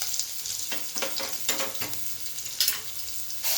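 Potato filling spices with ginger-garlic paste, turmeric and cumin sizzle in a pan as a spoon stirs and mixes them, giving a constant hiss broken by regular scraping strokes.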